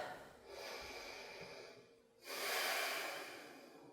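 Two slow, close breaths during yoga practice: a long airy inhale followed by a fuller, louder hissing exhale through the nose and mouth.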